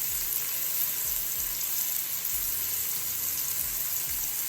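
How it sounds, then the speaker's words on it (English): Seasoned lamb leg steak sears in a hot pan with a loud, steady hiss and crackle that carries on without pause, up close and alone. "let all those flavors sear into the meat. And I'll let you hear some of the sounds."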